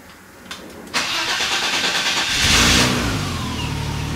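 A BMW 325i E30 cranks briefly and fires after sitting for over a week, then rises into a strong rev before settling to a steady idle; close, loud and without talk.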